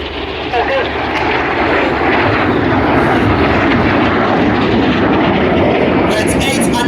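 RAF Red Arrows jets roar overhead as a pair dives low over an airfield at an airshow, a loud continuous rushing engine noise filling the whole stretch, with a commentator speaking over it.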